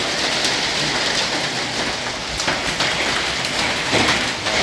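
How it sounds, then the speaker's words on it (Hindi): Hail falling together with heavy rain outdoors at an ashram, a dense, steady hiss of downpour with scattered sharp ice pellet ticks throughout, loud and continuous. "बारिश बंद हो गई और बर्फ पड़ रहा है, ओले पड़ रहे हैं अभी"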